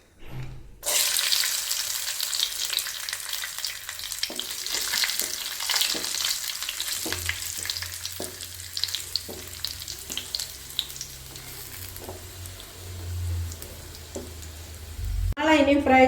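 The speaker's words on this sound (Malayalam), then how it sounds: "ഇതിലേക്ക് നമുക്ക് കിസ്മിസ് ചേർത്ത് കൊടുക്കാം." Raisins frying in hot oil in a pan for biryani give a steady, close sizzle with scattered stirring clicks, running nearly unbroken for the whole stretch.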